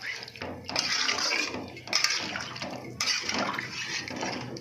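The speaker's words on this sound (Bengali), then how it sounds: "আমি জল ঢেলে দিয়েছি" Water pours into a cooking pot of curry seasoned with radhuni, a continuous broadband gush and splash heard close, with brief dips and surges as the flow shifts.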